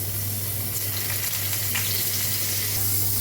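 Paneer fries in hot oil in a kadai, making a loud, dense, continuous sizzle that stays steady from start to finish, close to the listener, with no talk over it.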